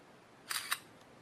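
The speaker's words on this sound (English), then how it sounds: "Press the shutter button again, get it to go back." A Samsung phone camera shutter fires, giving two quick synthetic clicks close together, crisp and close, followed by near silence.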